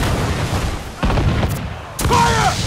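Booming ship cannon shots in quick succession in the video game Assassin's Creed Freedom Cry, heavy and close, over a constant rumbling background with a faint voice near the end.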